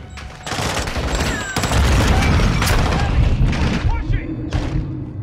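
Dense gunfire and booming bursts rattle through a Call of Duty Modern Warfare 2 Remastered prison-break firefight, loud and sustained, with shouted voices over the shooting.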